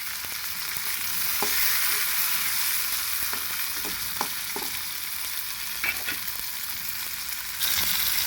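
Thinly chopped tomatoes fry in a pan for a village-style urad dal tomato chutney, giving a steady close sizzle with occasional soft stirring scrapes throughout.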